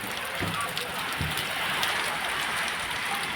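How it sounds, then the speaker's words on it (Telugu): Heavy rain pours down in a dense, steady roar close by at evening, with a couple of brief thumps early and a voice talking over it. "చూడండి వాన అయితే ఫుల్గా పడుతుంది."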